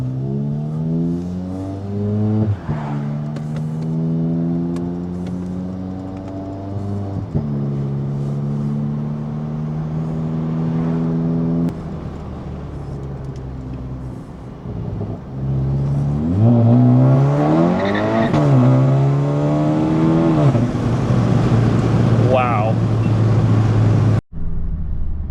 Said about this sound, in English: This is the wide open throttle time.